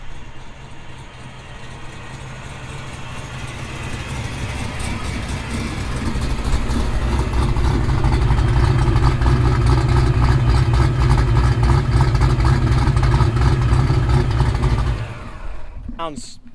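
Supercharged Mustang Cobra engine running, a loud steady low rumble that swells midway and holds before cutting off abruptly near the end, with people talking over it.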